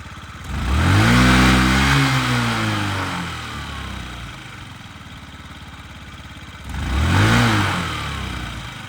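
A Yamaha Jog SA 55 J 2017 fuel-injected scooter engine runs close by, idling steadily with two short revs that rise and fall, one near the start and one near the end.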